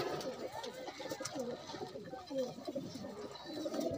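Pigeons coo in soft, overlapping low warbles, several birds at once, steady and fairly faint, with a light hiss of background noise.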